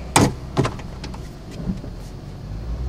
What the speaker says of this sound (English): That's that tire hitting the fender shroud.